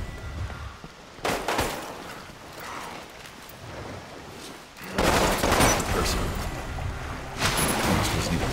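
Assault rifle fire in the shooter game Resident Evil Umbrella Corps, bursts of rapid shots and clattering mechanical noise coming and going, loud and close, with game sounds in between.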